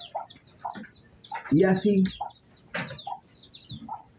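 Chickens and chicks cluck and murmur nearby in short, uneven bursts at a home backyard coop, one louder squawk in the middle, while someone speaks briefly in Spanish.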